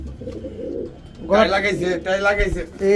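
Soft, low pigeon coos in short rounded phrases, close by, followed by someone talking over them.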